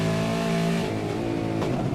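Supercars race cars roar past on the Barber Motorsport circuit, close and loud, with high engine notes that drone steadily and then shift as they go by, and no commentary over them.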